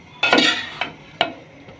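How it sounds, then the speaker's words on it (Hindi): A spoon scrapes and knocks against a pot as degi biryani is served out. There are a few loud, close metallic scrapes and clinks, with short gaps between them and no talking. "इसको मैं डिश आउट कर रही हूँ"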